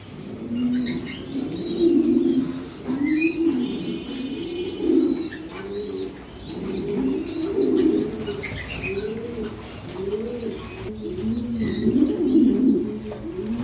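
A flock of racing pigeons on a farm coos continuously, overlapping throaty burbles from several nearby birds, with occasional faint chirps and a brief flutter of wings; no voices.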